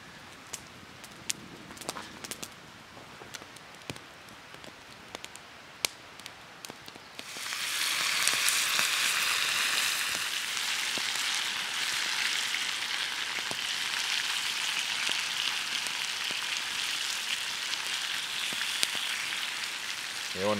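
Food frying outdoors at a fishing camp, a few light clicks and taps before a loud, steady crackling sizzle bursts in and continues close up.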